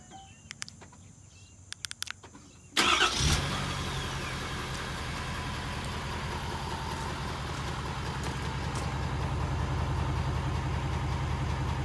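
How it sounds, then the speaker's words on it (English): Stock exhaust of a 2020 Ford F-250 6.7 Powerstroke King Ranch diesel truck starting after a few clicks, then settling into a steady, quiet low idle rumble heard alone with faint crickets in the background. "I'm gonna do a little before exhaust clip just to let y'all hear what it sounds like at stock"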